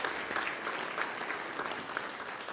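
Dense, enthusiastic applause from diners at a gala dinner, steady clapping filling the room for a few seconds without talk.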